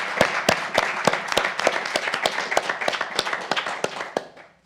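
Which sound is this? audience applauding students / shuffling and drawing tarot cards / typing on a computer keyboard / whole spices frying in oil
audience applauding students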